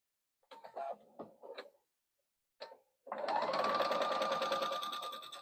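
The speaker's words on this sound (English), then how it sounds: "we'll sew a line on both the long ends" A sewing machine stitches a seam along the long ends of fabric for a crossbody bag, a steady close hum starting after a few handling clicks and a short gap.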